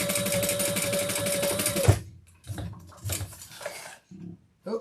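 A sewing machine runs steadily at speed stitching the sides of leather wallet card slots, then stops abruptly; afterward come scattered handling clicks and rustles, fairly close.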